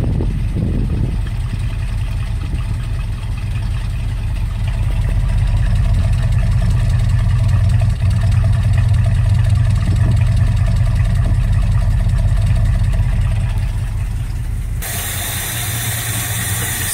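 A 1997 BMW or 1978 K5 Blazer engine fast idling on the fast idle cam after a -25C cold start, a steady loud low drone running throughout, shifting in tone near the end.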